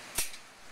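A single pistol shot fired during a pistol qualification, heard as one sharp, distant crack that fades quickly into quiet outdoor air.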